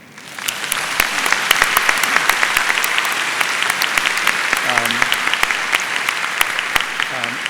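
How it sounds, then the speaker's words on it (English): A large panel audience at Singapore Perspectives 2019 gives George Yeo a round of applause, loud, dense sustained clapping filling the whole stretch, with a few brief vocal sounds rising faintly through it. "So let's give him a round of applause"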